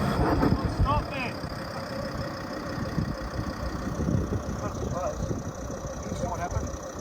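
A van's engine drones and revs while stuck in the Australian outback on the Oodnadatta Track, a steady mid-pitched rumble with shouting voices breaking in over it.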